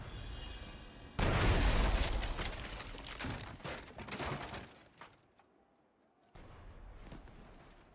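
A cannon blast in the video game Shadow Tactics: Blade of the Shogun booms loudly with a crashing, debris-like rumble that tails off into quiet, followed by a softer lingering noise.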